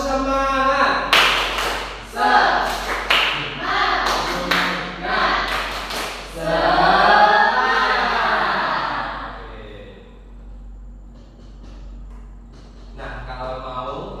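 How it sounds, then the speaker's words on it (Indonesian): A class claps a rhythmic spirit clap, sharp bursts of clapping in a patterned beat mixed with voices chanting along, then trailing into quieter talk. "Oke, tepuk semangat."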